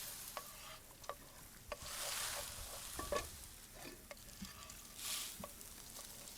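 Quiet frying sizzle from cooking in a video game, with stirring and occasional light clinks and scrapes, a soft hissing bed with a few brief swells; no talking.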